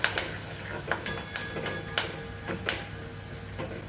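Garlic cloves, ginger, green chilies and curry leaves sizzle in hot oil with a steady frying hiss, broken by several sharp clinks and scrapes of a spoon stirring the pan.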